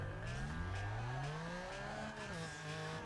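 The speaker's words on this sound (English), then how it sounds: "Oh, I do not like what that last engine upgrade made it sound." Upgraded car engine in Need for Speed Underground 2 revving steadily, pitch climbing and dipping over about three seconds with a buzzy, slightly raspy tone, loud and continuous with no talk.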